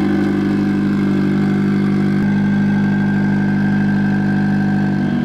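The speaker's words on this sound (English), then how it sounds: "getting all the timing and everything sorted on the engine" A car's new engine runs steadily nearby while its timing is set, a loud, even, droning idle with a constant mechanical hum and a slight shift in tone midway.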